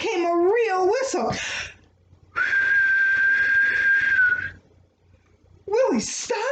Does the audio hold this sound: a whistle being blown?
yes